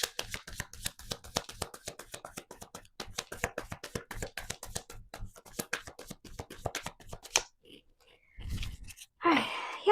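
A deck of tarot cards is shuffled rapidly and continuously, a dense run of close, crisp papery snaps and riffles for most of the stretch, then a few separate handling sounds after it stops.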